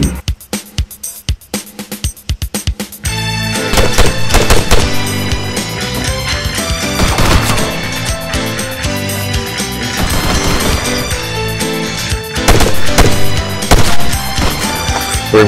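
Rapid, loud gunfire echoes through close-quarters battle training by New Zealand forces, with dense bursts and single shots cracking nearby over about fifteen seconds after a few sparse opening shots.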